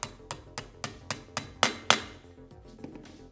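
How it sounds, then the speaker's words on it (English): Repeated hammer-like taps on a part of a Columbia anglehead maintenance kit being seated into place, about eight sharp close knocks in steady rhythm, the last two hardest, with no talking. "For the bottom one, place it over top of the two slots, center it, and tap it down."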